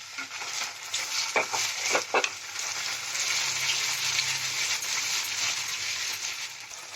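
Bombay duck (lote fish) paste goes into a pan of fried spices and sizzles loudly and steadily, with a few scraping stirs near the start.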